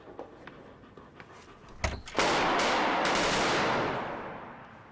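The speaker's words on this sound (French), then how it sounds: "Grenade aveuglante à retardateur." A delayed flashbang stun grenade detonates inside an amphitheatre: a few faint clicks and taps lead to a sharp thump, then a sudden loud burst of broadband noise that holds for about two seconds before fading away.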